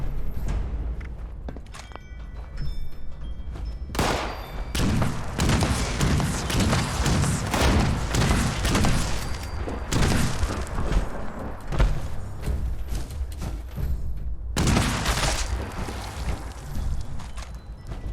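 Heavy cannon-like gun in the video game Fallout 76 fires in dense bursts of booming shots and thuds, loud and close, broken by short pauses, with footstep-like thumps in between.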